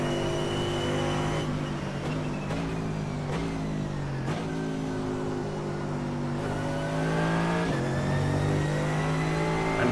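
A naturally aspirated 6.3-litre V8 in an AMG race car roars steadily through gear changes in an iRacing Blancpain race, its pitch climbing and dropping with each shift, loud and close with no talking.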